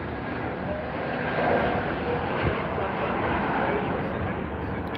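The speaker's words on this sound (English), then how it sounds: "Little float down the runway right there. Beautifully touched down though." Steady, broad engine roar of an Airbus A319 landing on a Heathrow runway, heard from a distance and holding fairly even throughout, with someone commentating over it.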